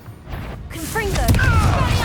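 A Confringo blasting spell goes off in Hogwarts Legacy, a short fiery burst with a broad rushing boom and crackle, layered over game sound effects and spoken voices.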